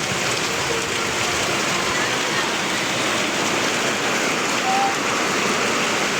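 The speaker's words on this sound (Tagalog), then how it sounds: "Mag-ingat po tayo sa sobrang lakas ng ulan na yan." Heavy rain pours down in a dense, unbroken roar, loud and close, steady from start to finish.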